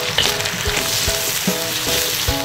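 Pork stir-fried in a wok with ginger, garlic and pickled chilies, sizzling loudly and steadily as the spatula scrapes and tosses in a quick repeating rhythm, close up with no voices.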